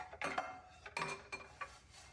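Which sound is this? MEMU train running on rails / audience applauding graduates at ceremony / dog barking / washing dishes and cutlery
washing dishes and cutlery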